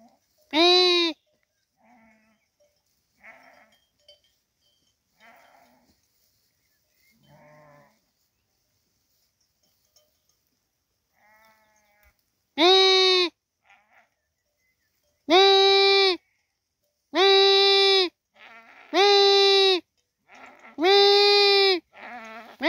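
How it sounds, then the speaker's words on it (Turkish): A ewe bleats loudly and repeatedly while searching for her lamb, five strong calls clustered in the second half after one early cry, with faint quieter sounds and soft talk in between. "Kuzusunu arayıp duruyor."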